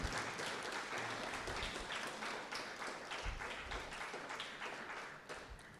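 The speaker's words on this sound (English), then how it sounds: "Can we have a big round of applause for all of the Year 2 class prize winners" An audience at a school speech day claps for the Year 2 class prize winners, a full, dense round of applause that stays loud and fades slightly toward the end.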